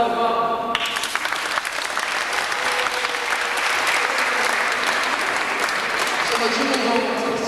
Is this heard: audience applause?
yes